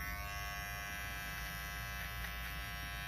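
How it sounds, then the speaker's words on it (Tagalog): A steady, close electric shaver buzzes continuously with an even, unbroken drone throughout, and no voices are heard. "didesignan ko lang ito ng shaver talaga, yung razor"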